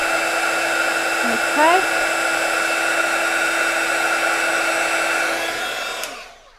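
A heat gun heating embossing glaze blows a loud, steady whirring rush at close range, then winds down and stops near the end, with a brief spoken word early on.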